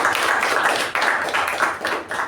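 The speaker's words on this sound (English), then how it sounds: "Please give a big applause for the team." A small meeting group claps for a table topics team, several nearby hands producing uneven bursts of clapping that swell and dip over a couple of seconds.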